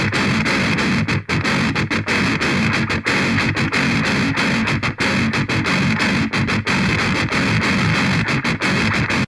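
A heavily distorted 8-string electric guitar plays a djent-style riff: dense, loud chugging broken by quick rhythmic stops and syncopated gaps, with no voices over it.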